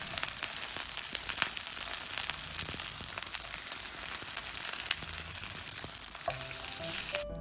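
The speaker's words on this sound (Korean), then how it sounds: "계란 흰자를 골고루 묻히고 중불에서 구워주세요" Egg-white-coated beef jeon sizzles steadily in a pan over medium heat, a dense continuous frying crackle that holds for the whole stretch, with faint utensil scrapes near the end and no talk.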